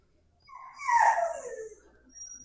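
A dog gives a sad, rising and falling whimper, a drawn-out whine lasting about a second and a half, close and fairly quiet.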